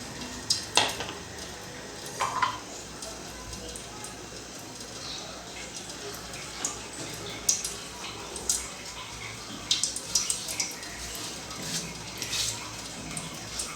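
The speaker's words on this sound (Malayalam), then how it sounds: "നമുക്കിത് നന്നായി ഒന്ന് മിക്സ് ചെയ്ത് കൊടുക്കാം." A mushroom curry cooking in a pan with added water, coriander and chilli powder, is stirred with a spoon, giving soft scraping and clinking strokes over a low simmering sizzle at close range.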